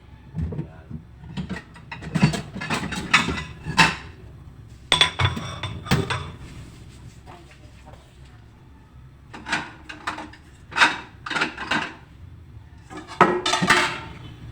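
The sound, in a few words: plates and dishes being handled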